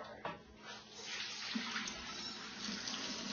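Warm water pouring from a tap into a container for challah dough, a steady nearby rushing splash that swells slightly and keeps flowing without pause.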